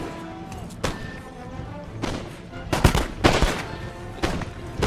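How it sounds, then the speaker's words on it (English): Musket volleys crack out in a Napoleon Total War battle, scattered sharp reports and a few heavier bursts clustered toward the middle, loud over a low battlefield bed with no talk. "The entire time getting shot at."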